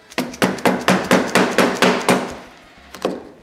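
A hammer strikes a spare piece of snowmobile slide to drive the hyfax runner onto the rail: about nine sharp, evenly spaced blows, loud and close, then a pause and one final hit.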